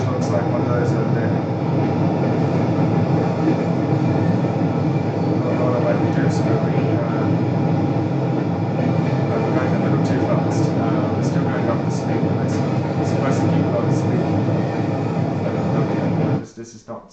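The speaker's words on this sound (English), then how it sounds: "This is a passenger train" Passenger train with a caboose rolling along in a video game, a steady dense rumble of running wheels and engine noise that holds evenly for most of the stretch before cutting off abruptly near the end.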